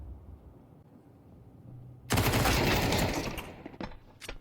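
Gunfire in a professional Counter-Strike match at a BLAST Premier event, a sudden loud burst of shots that erupts midway and rings out over about two seconds, with a couple of sharper cracks trailing after.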